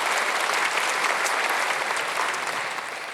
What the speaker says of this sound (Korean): 박수 치며 흔들으시기 바랍니다.